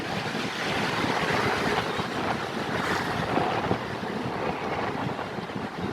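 Sea waves at Digha beach roar in a steady, dense wash of surf and wind buffeting the microphone, loud and continuous throughout.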